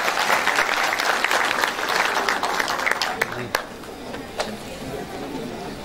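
An audience at a spring choir concert applauds a deputy mayor, a dense sustained round of clapping that slowly eases, with a few crisp individual claps standing out.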